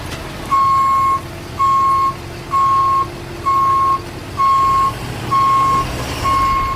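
A tow truck backs up, its reversing beeper sounding seven loud, evenly spaced beeps over a low engine idle, close by and with no talking.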